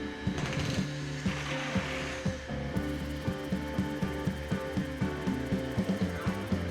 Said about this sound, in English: I'm using a router attachment that attaches to my drill with a flush cut router bit